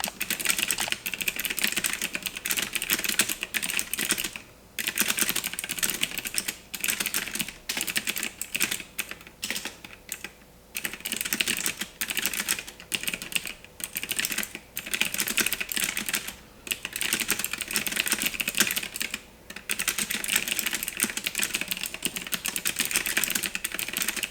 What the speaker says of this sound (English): And then we're just gonna type a little bit here.